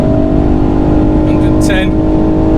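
A Pumaspeed-tuned 290bhp Ford Fiesta ST Mk8 on track holds a loud, steady high-rev engine drone at the rev limiter, heard from inside the car with a short sharp chirp partway through.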